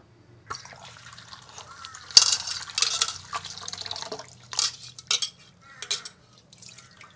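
Finely chopped taro is rinsed by hand in water, with intermittent splashes and light clinks of a vessel in short, irregular bursts over a quiet background.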